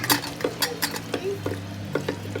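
Prawn biryani masala mixture being stirred in a pot with a metal spoon, giving repeated scraping clinks at a steady rhythm over a faint sizzle, close and clear with no talking.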